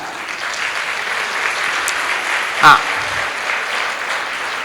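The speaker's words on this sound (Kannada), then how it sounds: "ಮಹಿಳೆಯರು ಮಾತ್ರ ಚಪ್ಪಾಳೆ ಕೊಡಿ" Women in the audience at a Kannada comedy event clap together in a sustained wash of applause, with a brief vocal interjection from the stage partway through.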